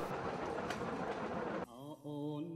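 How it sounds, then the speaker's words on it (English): Wheels click and clatter on the rails under a steady rumble as a train rolls through Cambodia. The noise fills most of the clip and ends abruptly as a short voice comes in. "listening to the clickety-clack of the wheels on the rail"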